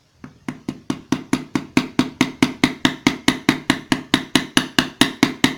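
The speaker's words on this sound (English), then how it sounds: "Again, I'm just using the weight of the hammer," A small hammer riveting ball ends on an earring against a bench block, tapping in a fast, even series of about two dozen light metallic strikes, close and alone.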